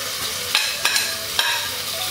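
Ginger and garlic frying in a pan for ginisang monggo with chicken, a steady broadband sizzle broken by three sharp scraping stirs of a spatula, close and fairly loud with no talk.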